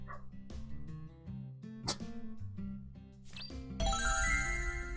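A Dalmatian in Deadly Premonition 2 gives a string of short, sharp barks and yips over tinkling game music, ending in a louder burst of sound, with no speech.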